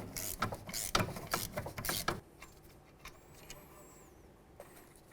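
A ratchet works on a brake caliper bolt of a 2011-2016 Hyundai Elantra, giving a quick burst of loud, close clicking strokes for about two seconds, then fading into faint workshop background with occasional light taps.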